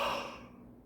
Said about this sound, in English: Oh, there's yawning.